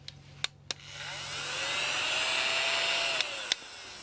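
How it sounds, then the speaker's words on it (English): A small handheld vacuum used for diamond painting drills whirs steadily, its pitch shifting as it sucks up loose beads, with a few sharp clicks at the start and end and no talk. "Okay, this is a vacuum."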